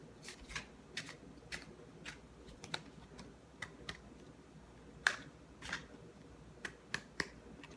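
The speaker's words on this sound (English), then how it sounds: "And I'm just gonna shuffle the cards." Soft crisp clicks and riffles of playing cards being shuffled, irregular taps scattered over a quiet background.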